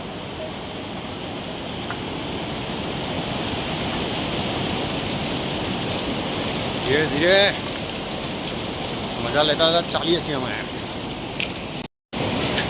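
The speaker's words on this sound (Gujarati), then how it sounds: "અહીંયાથી પાણી પડે છે" Steady rushing water from a waterfall spilling down from above on the Kedarnath trek, a continuous broadband roar that runs throughout while people talk over it in stretches.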